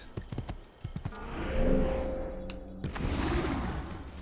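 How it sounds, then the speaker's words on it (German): Horse hooves in the video game Assassin's Creed, a few quick clip-clop steps at the start, then a whinny and snort over a steady game ambience. "Hier das nächste Pferd eingesackt."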